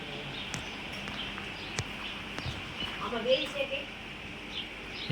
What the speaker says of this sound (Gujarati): બુલબુલ ચકલી આવી છે ત્યાં બોલે છે મસ્ત અવાજ કરે છે